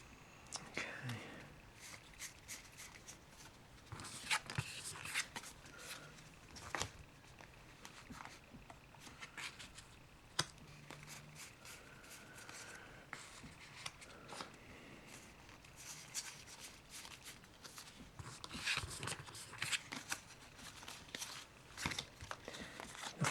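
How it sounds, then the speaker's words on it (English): Magic: The Gathering cards are shuffled and handled, giving quiet, close, irregular riffling and crinkling bursts over about twenty seconds, with soft whispered talk throughout. "Nothing quite like the sound of magic cards being shuffled around."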